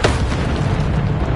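A Bombarda spell explosion in the Hogwarts Legacy video game, one loud, close boom with an initial crack that rolls into a dense rumbling tail lasting over a second.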